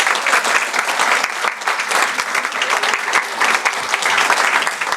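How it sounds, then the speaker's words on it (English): Steady, dense applause from a large audience at an evening event, sustained and loud for the full stretch with no pauses. "How about a round of applause?"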